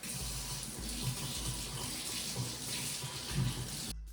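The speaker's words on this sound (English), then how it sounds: "So let me wash my hands." A kitchen sink tap runs steadily while hands are washed under it, a continuous close splashing rush of water that stops abruptly at the end.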